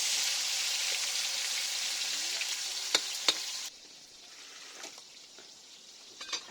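Garlic and tomato sauté in a pan, a loud, bright sizzle that stops abruptly partway through, leaving quieter scraping and a few clinks.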